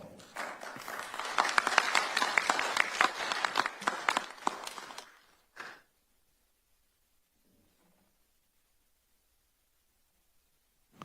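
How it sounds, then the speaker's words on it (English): Audience at a forum on China and US–Taiwan security gives a burst of dense applause for about five seconds, which ends with a few final claps and is followed by near silence. "So let's give them a round of applause."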